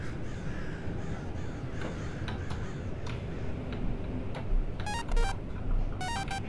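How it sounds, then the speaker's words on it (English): A phone in a horror game sounds a rapid run of electronic dial-tone beeps in two bursts near the end, preceded by crow caws and ticking over a dark, noisy ambience, with no speech. "That's my phone, right?"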